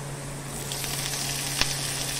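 Chopped onion sautéing in a pan for Maharashtrian moong dal amti, a steady close sizzle and crackle with a faint constant hum underneath and one brief utensil tap near the end.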